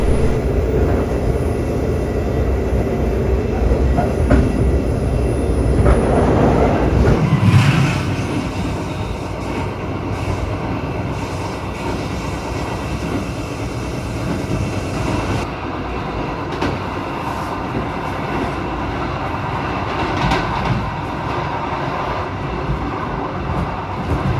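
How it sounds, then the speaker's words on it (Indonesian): Rumble and rattle from inside the Sembrani express train as it runs at speed through Jatibarang station in Indonesia: a loud, continuous roar with rhythmic wheel clatter that eases slightly partway through and carries on steadily. "bentar lagi kita bakalan melewati stasiun Jatibarang, melintas langsung"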